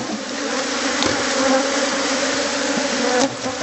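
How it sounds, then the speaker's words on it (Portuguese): Dense, continuous buzzing of many honey bees fills the air up close during honey harvesting, a steady drone with individual insects passing near. "Impressionante o movimento das abelhas."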